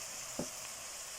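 Minced meat drops into a pan of frying onions, giving a brief soft thud followed by a faint, steady sizzle that continues quietly, with no voices.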